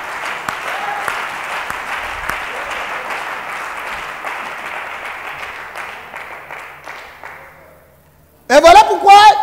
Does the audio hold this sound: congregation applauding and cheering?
yes